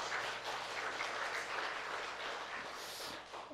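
A church congregation claps together during a Sunday worship service, a steady, fairly faint patter of many hands with no talk over it.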